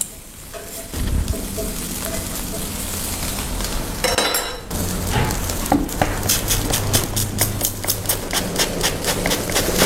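Potatoes and mushrooms sizzle steadily on a grill after being sprayed with an aromatic oil of lemongrass and galangal, with a metallic clatter midway and a dense, continuous frying hiss that is loud and close throughout.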